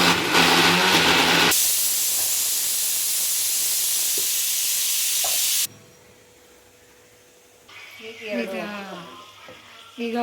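A pressure cooker vents steam while cooking a sambar, giving a loud, continuous hissing rush that cuts off abruptly, followed by quieter kitchen sounds and voices near the end.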